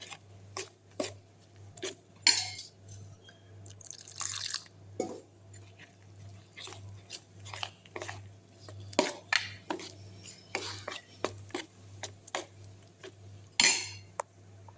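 A spoon stirs masala bread toast batter with water in a bowl, giving irregular metallic clinks and soft wet scrapes against a low steady hum, with no talking.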